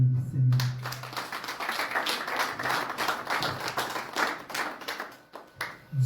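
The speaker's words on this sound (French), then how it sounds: "Est-ce qu'on peut acclamer le Seigneur?" A church congregation clapping and cheering in praise, with steady rhythmic hand claps running throughout at moderate volume and voices mixed in beneath them.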